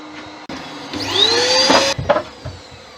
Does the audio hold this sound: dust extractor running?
yes